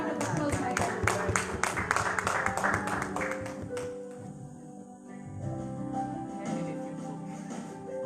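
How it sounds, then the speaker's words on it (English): An audience claps and applauds at a live event, dense rapid clapping for a few seconds that then fades into quieter background noise and murmurs. "Give another round of applause"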